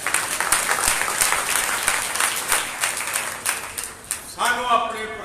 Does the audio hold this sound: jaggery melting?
no